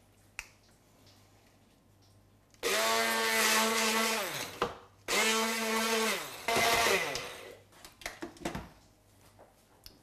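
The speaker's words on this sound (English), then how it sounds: "Okay, so now you're going to blend this." A handheld blender whirs loudly in two bursts of a few seconds each, its pitch dipping as it bogs down, with short knocks and clatter in between.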